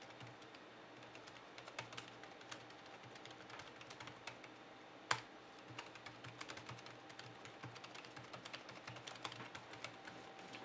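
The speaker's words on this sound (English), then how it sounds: "once you slide this right over, you'll see that the volume is greatly reduced" Typing on a MacBook Pro chiclet keyboard fitted with a Moshi Clearguard silicone protector: a quiet, steady run of soft, muffled key taps with one sharper click midway, no talking.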